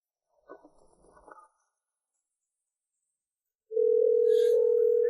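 A phone call goes unanswered: a brief muffled rustle, a pause of silence, then a loud, steady, continuous ringback tone sounding up close.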